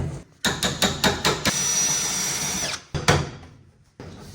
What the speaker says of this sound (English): So an air hammer's good. I have an air hammer.